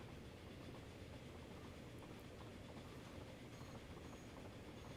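A train running in the video game Transport Fever, a steady dense rolling rumble with faint clatter, continuous and even throughout without talk.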